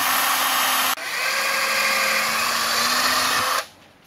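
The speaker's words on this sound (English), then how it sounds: "I'm going to drill two holes in here" A power drill whines at high speed through a pipe, a brief pause near the start, then steady drilling before the motor cuts off and winds down.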